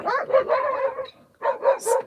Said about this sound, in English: No, they're just barking.